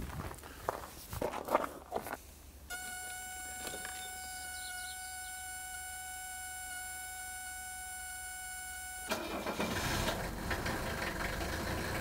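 After some shuffling and a long steady electronic whine as the glow plugs heat, an old diesel engine cranks and catches, then keeps running with a rough, even clatter.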